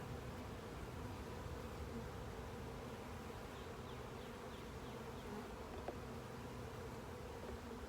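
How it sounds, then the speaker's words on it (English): A continuous, close-up buzz of honeybees swarming around a beekeeper during a spring hive inspection, steady and dense with no talking. "Actually, I had a bee in my bonnet,"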